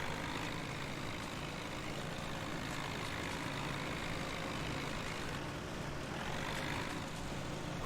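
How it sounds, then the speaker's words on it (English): Small tractor engine working in Farming Simulator 17 in a forest, a steady rumbling drone that revs slightly near the end, running continuously without talk. "Alright, little tractor, back to work."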